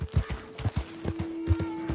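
Regular clip-clop of horse hooves in Red Dead Redemption 2, about two beats per half second, close and clear over a low steady hum.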